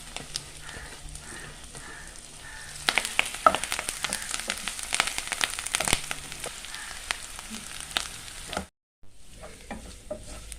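Curry leaves dropped into hot oil crackle and sizzle sharply, a burst of spattering that settles into steady frying, with occasional stirring clinks and a brief silent gap near the end.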